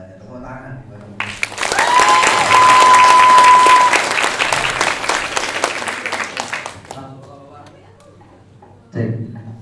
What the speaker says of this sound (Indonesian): Tepuk tangan baru.